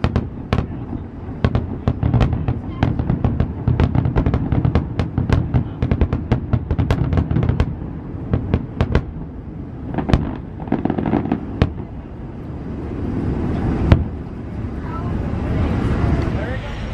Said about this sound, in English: let's just talk for a second about how amazing the fireworks were, that we got to do them in the boat